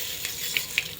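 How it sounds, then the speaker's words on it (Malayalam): Mustard seeds hit hot oil in a pan after fenugreek, a brief steady sizzle with a few sharp pops, close and fairly quiet. "ആവശ്യത്തിന് കടുക് ഇട്ട് കൊടുത്തു. കടുക് പൊട്ടി"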